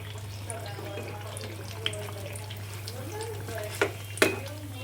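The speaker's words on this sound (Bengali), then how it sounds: "এই মেজো যায় যে এখানে বেগুনি ভাজছে" Eggplant fritters (beguni) frying in a home kitchen during iftar preparation: a steady sizzle under a low constant hum, with a few sharp clinks near the end and faint voices in the background.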